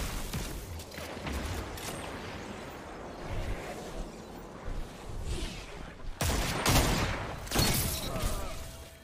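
Shotgun blasts from Destiny sound as scattered sharp reports amid busy firefight noise. Several loud shots cluster near the end over the steady din of the game.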